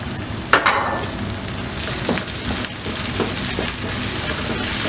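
Finely chopped tomato hits a pan for prawn curry, starting with a sharp burst of sizzle and then a steady frying hiss, with a few stirring scrapes and no speech.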